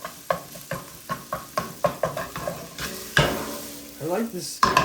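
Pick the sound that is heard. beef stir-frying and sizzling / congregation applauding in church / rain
beef stir-frying and sizzling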